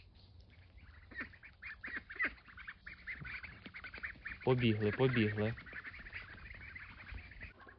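Ducks and ducklings on a farm make a loud burst of honking quacks in the middle, with softer peeping and scattered bird calls around it and a voice speaking.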